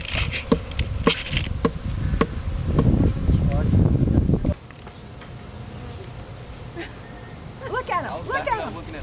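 A honey bee swarm buzzes around a hive while a stick taps on its back, sharp knocks over a dense, steady insect hum. Afterward the buzzing continues more faintly with people talking.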